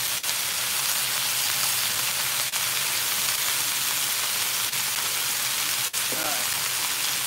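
Beef pieces searing in hot beef shortening in a pan for birria tacos, a steady broadband sizzle throughout with a few sharp pops and crackles, close and fairly loud, with brief faint voice at the end.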